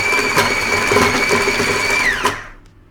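An electric mixer whirs steadily through chocolate chunk muffin batter, a loud close motor drone with a few knocking bumps that spins down and stops near the end.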